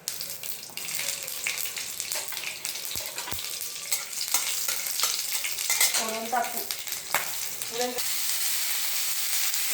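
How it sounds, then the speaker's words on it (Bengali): Black mustard seeds and a green chilli sizzle and spatter steadily in hot oil for a Bengali bottle-gourd peel dish, a continuous close frying hiss with scattered pops and brief clatters throughout. "কালো সর্ষে ফোড়নে দিয়ে দিলাম, আর একটা কাঁচা লঙ্কা দিয়ে দিলাম।"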